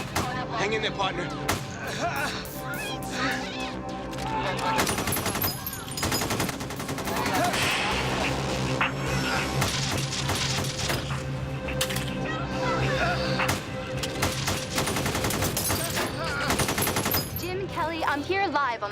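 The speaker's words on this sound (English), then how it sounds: "What you hear behind me is not coming from the movie set. It is actual gunfire." Dense bursts of automatic gunfire from a live bank robbery shootout on Laurel Canyon in North Hollywood, hundreds of rounds crackling in rapid volleys under a steady street din, with voices heard throughout.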